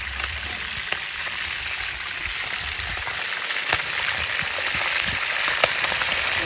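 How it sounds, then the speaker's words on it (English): A pot bubbling and sizzling during backyard cooking in Jamaica, stirred now and then, giving a steady close crackling hiss with occasional soft clicks and no voices. "We just have to stir this around so more."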